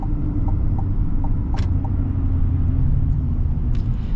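A 2025 Chevy Silverado ZR2 HD pickup's diesel engine drones in a steady, low rumble while the truck drives, with faint light ticks over the continuous road-and-engine hum.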